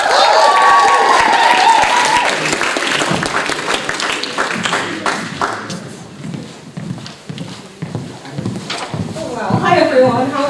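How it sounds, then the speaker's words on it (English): An audience at a cultural performance showcase applauds a spoken word performer, with clapping loud at first and then thinning into scattered claps beneath talking voices, swelling again briefly near the end. "we'll give a round of applause"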